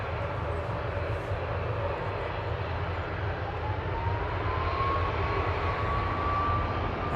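A Ryanair airliner passes at Manchester Airport with a steady, broad roar of jet engines and a faint rising whine, loud and continuous throughout, with no speech.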